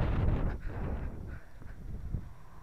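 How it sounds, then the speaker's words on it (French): Gusty storm wind in Lorraine, along a disused railway line, rumbling against the unfiltered microphone, strongest at the start, then easing into softer buffeting puffs. "Le problème, c'est qu'il y a trop de vent,"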